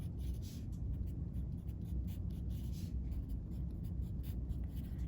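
Pencil scratching answers onto a paper worksheet of equivalent fractions, a steady close scribble with rhythmic strokes running throughout.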